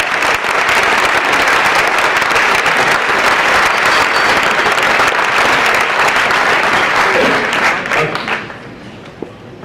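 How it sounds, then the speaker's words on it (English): A large audience at an awards ceremony gives a loud, sustained round of applause for Justice Neto, dense clapping that holds steady and then tapers off near the end. "let's give a rousing hand of applause for Justice Neto"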